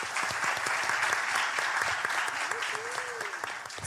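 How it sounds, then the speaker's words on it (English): A live student audience at a panel dialogue event breaks into dense, sustained applause, a steady wash of many hands clapping with a faint voice-like whoop rising briefly within it. "big round of applause?"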